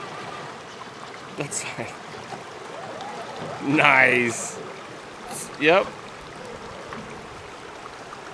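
A vehicle crosses a creek in the Sierras, splashing through flowing water in two short bursts over a quiet background, with people talking nearby.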